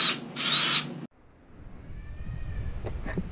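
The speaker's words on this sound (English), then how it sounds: "the floor steel was easily done with an ordinary drill" A power drill whines loudly in two short bursts drilling through the steel floor of a Jeep Cherokee XJ, then stops, followed by quieter rumbling and faint metallic ticks.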